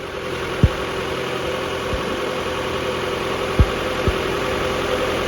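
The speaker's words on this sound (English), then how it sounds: "let's crank the truck and see how she sounds" A Nissan D21 truck engine idles steadily after a spark plug change, a smooth even hum with a few faint clicks and knocks and no talk.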